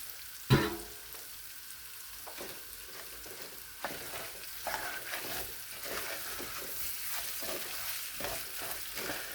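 Rinsed rice is stirred and toasted in melted butter in a pan for pilaf, giving a steady soft sizzle with scraping stirs throughout and a sharp clank near the start.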